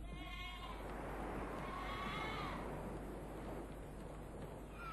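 Faint, wavering bleats from goats on the Monte Cristo Reserve, somewhat distant, rising over a constant wash of wind or rushing noise.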